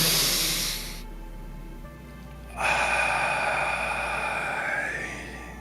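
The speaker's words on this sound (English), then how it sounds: "Nice deep breath in through the nose." A deep breath in through the nose comes as a long, close, airy inhale, followed by a brief quiet pause and a second breathy rush, with no speech.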